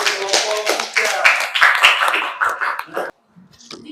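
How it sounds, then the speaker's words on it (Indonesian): A classroom audience claps for a student group during a religious education lesson: dense, steady clapping for about three seconds with voices mixed in, then stopping abruptly before faint, scattered sounds. "kita berikan tepuk tangan lagi untuk kelompok"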